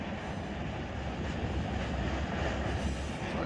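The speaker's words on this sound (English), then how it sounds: "I'm just gonna jump down off of a moving train." A moving freight train in the Run8 train simulator rumbles steadily up close, a dense continuous roar of wheels and cars with faint rail clatter, no talk.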